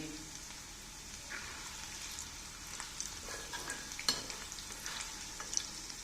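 Spices and asafoetida crackle and sizzle quietly in hot oil for a tempering, with scattered sharp pops over a steady frying hiss.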